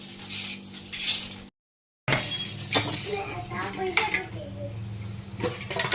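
A child plays with two metal spoons in a home kitchen, producing irregular clinks and clatters with a brief silent break, while adults talk nearby.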